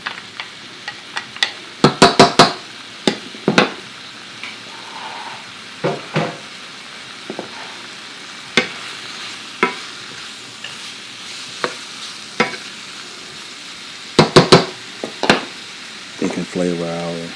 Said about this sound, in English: okay, we have seasoned the onions and the turkey bacon. Let's add the garlic now.